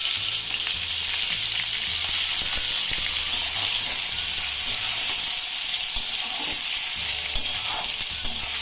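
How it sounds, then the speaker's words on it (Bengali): Pieces of tender ridge gourd fry in hot oil for a moong dal dish, giving a loud, unbroken sizzle close by, with occasional stirring scrapes and no talk. "তো আমি ঝিঙেগুলো ঘনবার ভেজে নিচ্ছি।"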